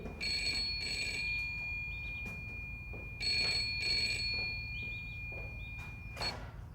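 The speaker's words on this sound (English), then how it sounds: "phone's ringing" An old-style telephone bell rings in two long bursts, loud and close, with quiet room noise between rings.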